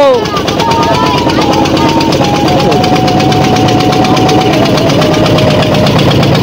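Motorboat engine droning steadily on a boat trip to an island at Mukutmanipur reservoir, loud and continuous throughout with a faint whining tone riding on top.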